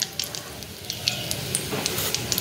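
Dried red chillies fry in a pan in a home kitchen, giving a quiet, steady sizzle with small crackling pops throughout.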